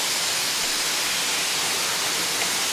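Steady broadband hiss of a steam injector on an LNWR G2 Super D steam locomotive in a train simulator game, continuous and even for the whole stretch with no talk.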